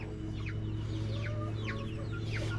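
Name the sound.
hen clucking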